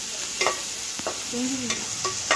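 Sliced onions for a chicken curry sizzling gently in a pan, with a few sharp stirring scrapes and clinks punctuating the steady frying hiss; no voices.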